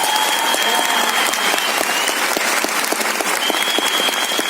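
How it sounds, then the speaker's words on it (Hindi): An audience claps together in a sustained burst of applause, a dense, even patter of many hands that stays loud and steady throughout, without audible talk. "तो जो आपको यहाँ लेके आया पहले उसके लिए एक बार ताली बजाओ"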